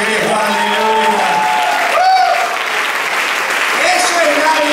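Steady, dense applause from a church congregation during a Sunday Christmas service, loud and continuous, with a preacher's voice and shouts rising over it.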